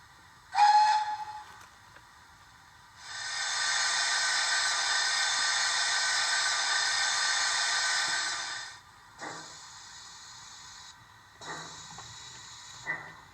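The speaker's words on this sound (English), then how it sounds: "And off she puffs into the distance." Garden railway steam locomotive moving off, a short sharp whistle toot followed by a long sustained hissing blast of steam, then shorter hisses and puffs fading in bursts, no talking.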